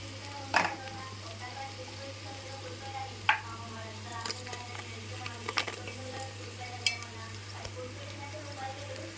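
Carrot, capsicum, tomato and beans fry in a cooked paste for a vegetable dum biryani, giving a steady low sizzle. Sharp clinks and scrapes from stirring cut through it now and then.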